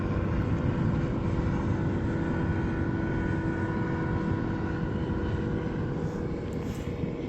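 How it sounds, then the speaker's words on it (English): An aircraft flies over a recreation area on the Oregon coast, its engine a loud, continuous, steady drone throughout with no other sounds. "I'm guessing that's some sort of like a glider?"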